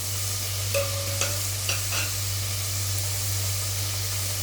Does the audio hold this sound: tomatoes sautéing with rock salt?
yes